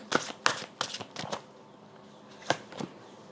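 Tarot cards shuffled for a reading, a few quick crisp riffles and flutters in short bursts, close and fairly soft, with pauses between and no talking.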